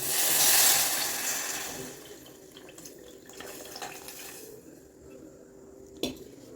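Dissolved tamarind water is poured into a sardine fish curry in a home kitchen: a splashing pour at the start fades into soft bubbling, then a single sharp clink of a utensil near the end.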